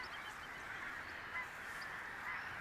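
Black-tailed godwits calling across a flooded wet meadow near Amsterdam, faint and distant, their calls thin and scattered over a steady hiss of wind and open-air background.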